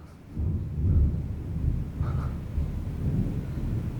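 Thunder rolls during an extreme thunderstorm outside, a deep, sustained rumble that swells and fades, with faint rain or wind beneath and no talking.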